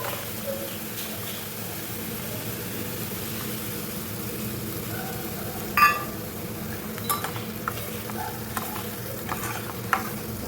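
Mustard paste frying with cooked-down tomato in a pan for a pomfret fish curry, a continuous sizzle with stirring, a few clinks of a utensil against the pan, and a voice speaking faintly.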